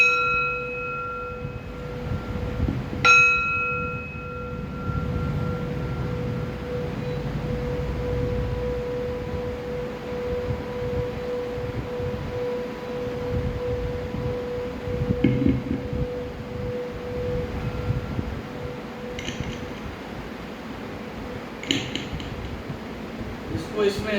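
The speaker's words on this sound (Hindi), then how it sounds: "जब हम इसको थोड़ा सा ठोकते हैं तो ये घंटी की आवाज़ करता है" A struck metal singing bowl rings out with clear bright bell-like tones that hum on and slowly fade, a few lighter strikes later over soft background noise.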